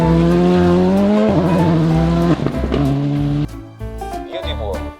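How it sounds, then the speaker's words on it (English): A rally car engine revving hard with squealing tires, loud and close, the pitch climbing and wavering before cutting out into short bursts. "Oh, rally car, my friend."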